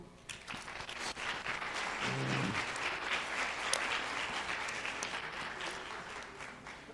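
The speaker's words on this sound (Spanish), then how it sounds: "Un aplauso." A crowd applauds steadily, many hands clapping at once in a dense, sustained burst.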